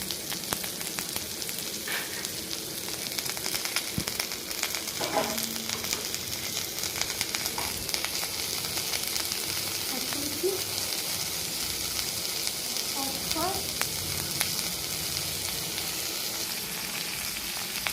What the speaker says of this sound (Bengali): তেলটা গরম হয়ে গেছে, তারপরে পটলটা আমি তেলের মধ্যে ছেড়ে দিয়েছি